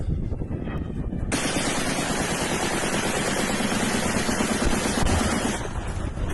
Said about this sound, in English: look at that Browning M2 machine gun going off and taking down that cruise missile coming into Ukraine